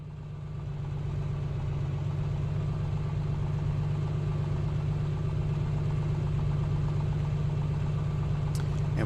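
A Piper PA-24-250's engine idles at about 1,000 RPM in the Microsoft Flight Simulator 2024 game, a steady low droning hum that holds evenly with no talk.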